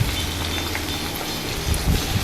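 Potatoes frying in a hot pan, a steady dense sizzle and crackle heard close up, with a few louder pops near the end and no talking.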